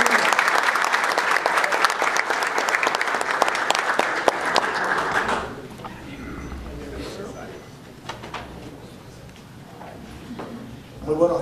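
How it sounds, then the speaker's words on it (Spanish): An audience at a rice federation and bank event in the Dominican Republic claps in a dense burst that stops abruptly partway through, leaving faint room noise with scattered taps. "Vamos a recibirles con un fuerte aplauso."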